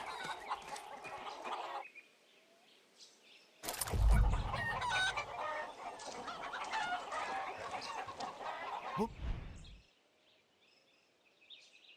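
A fighting rooster in the video game Far Cry 6 clucks and squawks in loud bursts, with a flurry of agitated calls in the middle and quieter gaps before and after.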